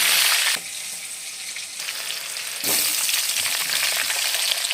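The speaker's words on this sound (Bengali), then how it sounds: "ওই তেলের মধ্যে কালো জিরে ফোড়ন দিচ্ছি আর দিয়ে দেবো চেরা কাঁচা লঙ্কা" Black cumin seeds and slit green chillies sizzling in hot oil for a fish curry with eggplant: a loud, close crackling sizzle that dips briefly, then surges again as more goes into the pan.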